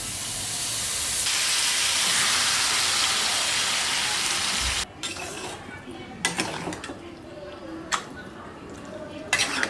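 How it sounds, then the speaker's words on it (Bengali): Mutton pieces dropped into a kadai over whole cumin tempering, a steady loud sizzle for the first half that breaks off into clattering pan and utensil knocks with sizzling beneath. "কড়াইতেই মটনটা দিয়ে দিলাম"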